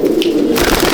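Cooing from a thin-bodied Andhra breeder pigeon in a loft, a low rolling coo close up, with a rustly burst of noise joining in the second half.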